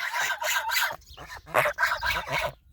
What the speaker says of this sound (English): Hear their deep voices are getting deeper, starting to sound more like geese.